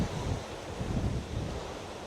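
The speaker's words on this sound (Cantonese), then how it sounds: "真係好大風，大風到癲咗" Strong, cold wind buffets the microphone at the summit of Wutong Mountain in Shenzhen, a continuous low roaring rumble with no voices.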